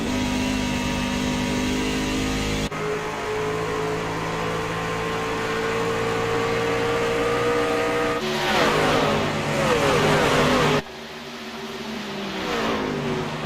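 Stock race cars at Watkins Glen pushing through turn 1 in a pack, loud overlapping engines droning and shifting pitch as cars pass, with hard revving and downshifts near the end.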